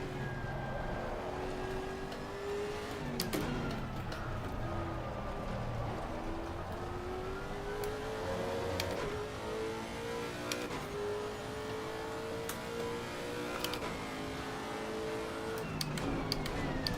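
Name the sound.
race car engine revving, Assetto Corsa Competizione video game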